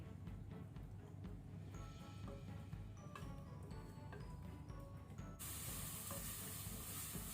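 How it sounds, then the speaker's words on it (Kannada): Green masala paste for mutton frying in a pan, a faint, steady sizzle with occasional soft stirring scrapes, no voices. "ಈಗ ಇದು ಗ್ರೀನ್ ಮಸಾಲ ಒಳ್ಳೆ ರೀತಿ ಫ್ರೈ ಆಗಿದೆ"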